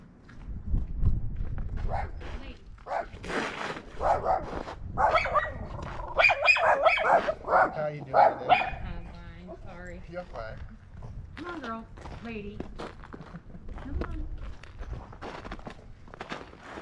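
Dogs bark outdoors on a cold, windy day, with several loud, close bursts scattered among footsteps and wind noise, and voices in the background.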